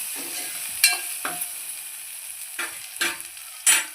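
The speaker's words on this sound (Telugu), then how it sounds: "ఇలా పచ్చివాసన పోయే వరకు ఇలా మంచిగా వేయించుకోవాలి." Ginger garlic paste fries in a pan, a close, steady sizzle broken by several sharp scrapes and clanks as it is stirred.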